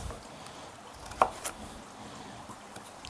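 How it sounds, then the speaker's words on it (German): Knife cutting peeled carrots on a board, two faint, close chops about a quarter second apart and a soft tap later, in a quiet room. "Dann habe ich hier Möhren, die habe ich geschält, die werden jetzt auch halbiert."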